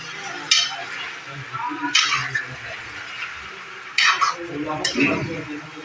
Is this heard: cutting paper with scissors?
no